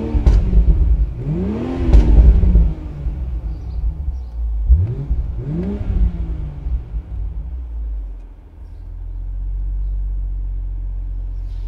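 A BMW Z4 M40i in Sport Plus mode gives two loud, close throttle blips that rise and fall in pitch, with crackles between them, then drops back to a low, steady idle.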